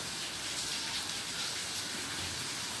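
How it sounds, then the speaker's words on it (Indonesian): Steady rain falls continuously in Denpasar, a dense even hiss of drops on surfaces with no pauses and no voices. "Dari pagi di Denpasar hujan terus nih sahabat cuan ya."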